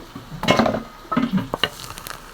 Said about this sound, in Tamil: நம்ம மூடி போட்டு மூடிடுவோம்